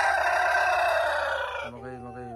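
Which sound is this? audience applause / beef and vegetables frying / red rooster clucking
red rooster clucking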